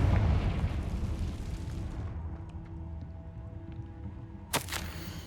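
A loud, rumbling explosion from the Confringo blasting spell in Hogwarts Legacy dies away over about two seconds into a quiet room, followed by a brief sharp pop.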